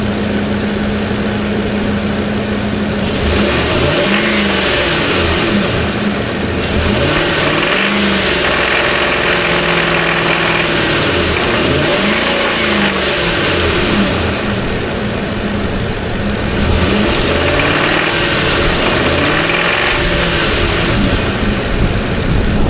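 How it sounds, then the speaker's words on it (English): A car engine with thrashed bearings is revved repeatedly, loud and close, its pitch rising and falling through several revs over a rough, noisy idle with no talking. "I'm gonna go give her a couple of revs and we'll see what she sounds like"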